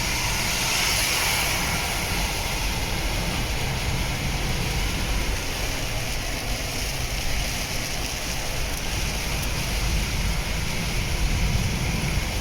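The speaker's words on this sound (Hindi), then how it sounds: "बारिश कितनी तेज़ी से हो रही है।" Heavy rain pours down in Kuwait as a steady, dense hiss that stays loud and unbroken throughout, with no voices.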